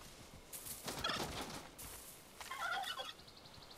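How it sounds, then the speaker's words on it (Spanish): A peacock calls inside the Far Cry New Dawn game world, loud nasal honking bursts repeated in a short series over a steady ambient background. "¿Qué es esto? Si es un pavo real, tío."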